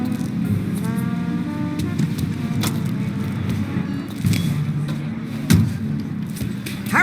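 Steady low car engine drone in Mafia Definitive Edition, a taxi cruising through city streets, with faint thumps and clicks over the continuous rumble and no talk.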